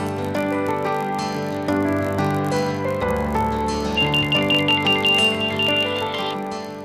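A telephone rings steadily and loudly over several seconds while a call is being placed, a repeating electronic tone sitting on top of a sustained musical background, with no talk.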